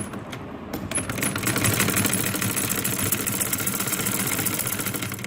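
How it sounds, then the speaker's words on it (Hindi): Sewing machine running steadily while stitching a shirt neckline, a continuous close mechanical whir with rapid needle ticking that holds for the whole stretch. "चलिए अब सिलाई लगाते हैं।"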